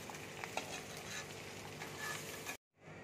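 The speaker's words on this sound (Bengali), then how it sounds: "এবার আমি পনিরগুলো তেলের মধ্যে দিয়ে দিচ্ছি" Paneer pieces fry in hot oil with a steady, dense sizzle and crackle, close and even throughout, with a soft stir or two before the sound cuts off abruptly near the end.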